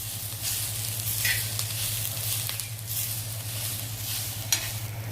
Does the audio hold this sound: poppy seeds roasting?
yes